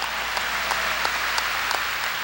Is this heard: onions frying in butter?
no